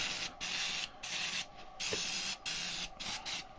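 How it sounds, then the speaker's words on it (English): Unscented antiperspirant deodorant spray hisses onto bare toes at a cold-weather deer camp in bursts of about half a second, several in a row with brief gaps, close to the microphone. "spray your toes down real good"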